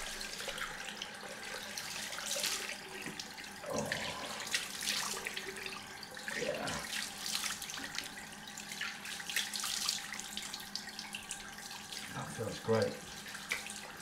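Tap water runs steadily into a sink for a cold rinse after a head shave, a soft continuous splashing heard close by, with a brief spoken word and some handling splashes.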